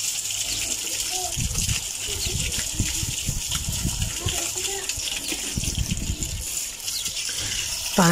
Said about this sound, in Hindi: मोटर जो है वो मैंने स्टार्ट कर दिया है, और पहले इसको जो है पानी लगाते हैं